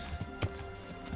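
Horse hooves clip-clop in quick, uneven steps with a short neigh in the medieval video game Kingdom Come: Deliverance, faint and a little distant over a quiet game background.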